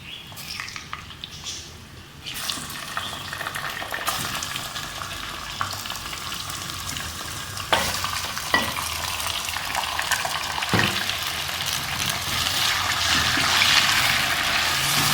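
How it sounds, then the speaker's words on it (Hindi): Chicken pieces fry in a pot with golden-browned onions for a shahi haleem, giving a steady, loud sizzle with occasional stirring scrapes throughout, no voices. "चिकन को हमने कम से कम 5 मिनट तक अच्छे से भूनना है।"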